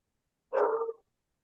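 A single short, loud bark from a house dog, one sharp burst lasting about half a second in otherwise silent surroundings.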